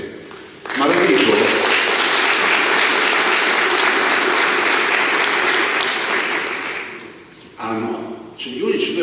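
Sustained applause from an audience of mayors at a Veneto municipalities assembly, loud and dense for several seconds before fading, with a brief voice and a short renewed burst of clapping at the end.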